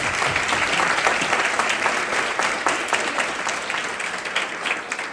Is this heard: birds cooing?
no